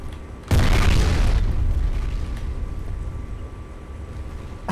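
A loud video-game grenade blast bursts in about half a second in, a heavy boom with a long rumbling tail that fades slowly, on a refinery combat map.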